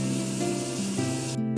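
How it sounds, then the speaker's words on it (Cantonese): Water sprays steadily from a new rain shower head in a hotel bathroom at a hot spring resort, a close, continuous hiss with no voices. "仲有淋雨花灑"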